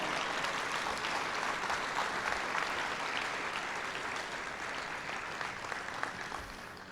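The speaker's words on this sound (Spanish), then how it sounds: "dele un aplauso a Jesucristo." Audience applause at an evangelistic campaign service rises as steady, dense clapping from a gathered congregation, continuing evenly for several seconds and easing slightly toward the end, with no speech over it.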